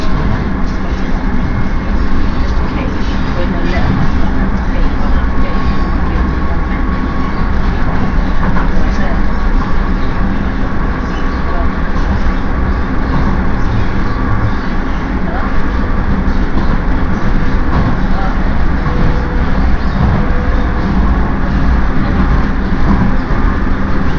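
Steady, loud rumble of a Docklands Light Railway train in London, a continuous rolling drone of wheels and motors that holds evenly throughout.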